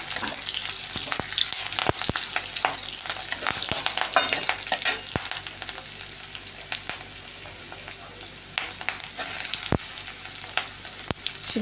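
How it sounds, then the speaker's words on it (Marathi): Capsicum being stirred and sautéed in hot oil for paneer 65, a steady crackling sizzle punctuated by sharp scraping and clinking of a spoon against the pan. "शिमला मिरची घातलेली आहे मी या ठिकाणी। तिला पण असं छान तेलामध्ये परतवून घेणार आहे।"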